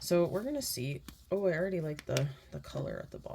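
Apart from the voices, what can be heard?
No everyday noises stand out.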